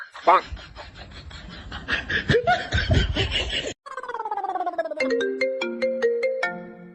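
A mobile phone ringtone plays a bright, stepped electronic melody loud and close, following a burst of laughter and chatter from a comedy scene with people talking over it.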